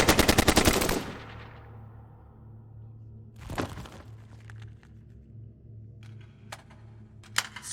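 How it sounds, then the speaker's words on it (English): Automatic gunfire from hostile soldiers in a sci-fi video game: a loud rapid burst of shots opens, then scattered sharp cracks and single shots ring out over a low steady hum. "More hostiles opening fire."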